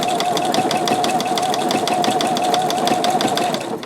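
A domestic sewing machine runs steadily, stitching appliqué on quilt fabric with a rapid, even mechanical whir and rhythmic needle clatter, close up and continuous without speech, easing slightly at the end.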